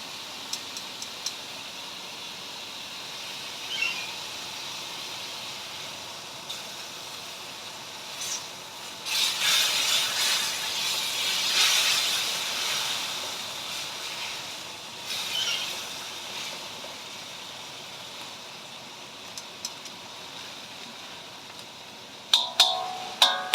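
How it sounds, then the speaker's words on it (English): Zucchini browns in a hot frying pan, a steady soft sizzle that swells into louder hissing bursts midway and settles again, with a few sharp clicks at the end. "Zucchini's browning up very nice."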